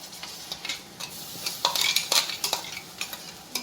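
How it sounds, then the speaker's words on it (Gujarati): Tomato puree sizzling in a pan of fried onions, with stirring scrapes and bursts of hissing that grow louder partway through, close and without talk. "હવે આપણી ડુંગળી શેકાઈ ગઈ છે, તો આપણે એડ કરીશું ટામેટાની પ્યુરી."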